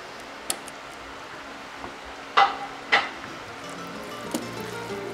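Lobster spaghetti tossed in a hot pan, a soft steady sizzle with a few sharp clinks and scrapes of utensils against the pan, fairly close and quiet.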